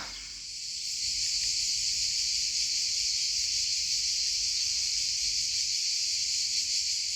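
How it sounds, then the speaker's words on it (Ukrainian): Cicadas buzz loudly in a park in Montenegro, a dense, continuous high shrill drone holding steady throughout without pause, close and dominant with no voices. "Цикади такі галасливі"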